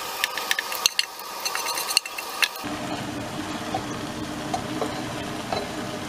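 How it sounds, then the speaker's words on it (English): Rice being spread over masala in a cooking pan, with clinks and scraping of a utensil against metal at first, then a soft continuous sizzle and rustle under light stirring. "I'm putting this rice on it. Should be evenly spread."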